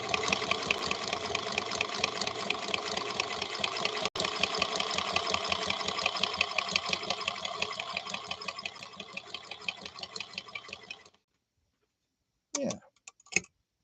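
A Singer Centennial Featherweight sewing machine stitches cotton thread with a small stitch at a fairly high speed. It gives a steady, rapid mechanical chatter for about eleven seconds, then stops, followed by a few sharp clicks.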